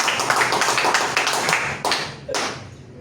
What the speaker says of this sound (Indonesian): Kasih aplaus dulu buat kalian.